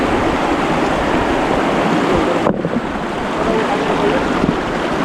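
A cold mountain river rushes steadily and loudly as a broad, continuous wash of water, briefly interrupted by a short dip, with no voices clearly heard.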